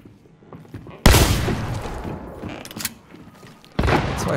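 Two loud gunshot blasts in the video game Hunt: Showdown, one early and one near the end, each a sharp booming crack with a rumbling tail.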